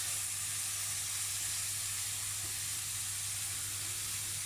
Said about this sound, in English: We're going to sear it all up until it's looking good and seared